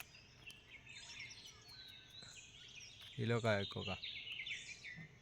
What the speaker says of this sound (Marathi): सकाळी सकाळी पक्ष्यांचा आवाज बघा वेगवेगळं येतात वेगवेगळे पक्षी बोंबाटत